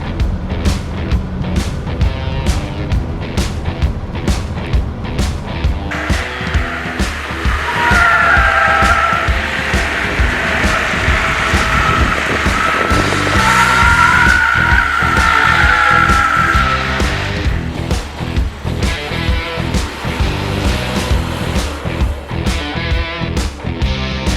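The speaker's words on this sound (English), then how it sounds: "So we are driving the Aster on a race track." An MG Astor SUV runs hard on a race track, its engine note rising and holding loud through the middle stretch while tires skid and squeal in steady bursts, with no talking over it.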